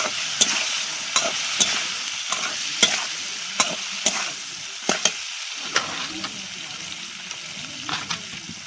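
Okra frying in mustard oil in a pan, a constant close sizzle punctuated by regular sharp clinks and scrapes of a spatula stirring, with no one speaking.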